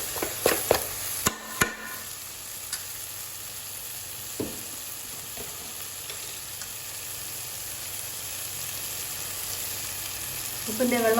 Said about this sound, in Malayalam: തക്കാളി ഒന്ന് നന്നായിട്ട് വഴറ്റി കിട്ടണം.